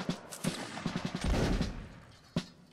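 Musket volleys in a line battle video game crackle in a dense, rolling burst of overlapping shots, with a few sharp isolated reports before and after.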